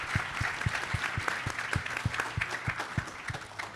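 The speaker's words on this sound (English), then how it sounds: "Please give a round of applause for our panelists." Applause from a conference audience for panelists after a talk on camping in a Tesla Cybertruck, steady moderate clapping in a hall with individual claps standing out.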